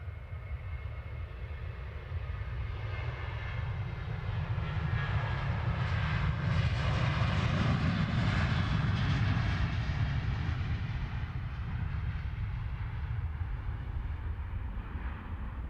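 A Ryanair airliner on approach to London Stansted Airport, a broad jet roar that swells to its loudest midway as the plane passes, then slowly fades, with no talk over it.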